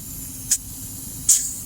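Air pumped through a classic nozzle into a motorcycle tire, two short sharp hissing bursts, the second slightly longer, close against a low steady background hum.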